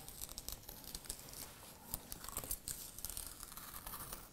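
PVC backing peels slowly off a lampshade panel with faint, quiet crinkling and soft tearing, in an irregular crackle close by and without talk.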